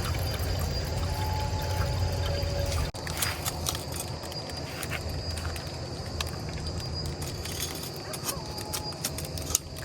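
Water tipped into a cooking pot to steam bhapa pitha rice cakes, a continuous splashing pour lasting several seconds, with scattered clicks and faint background voices.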